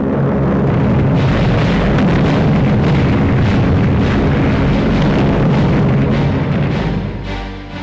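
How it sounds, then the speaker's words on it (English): Luftwaffe bombers bombing the city of Moscow during the German advance, with a loud, continuous roar of explosions and rumbling booms that runs dense and unbroken throughout, fading slightly at the end. "on the 22nd of July, bombing of the city started"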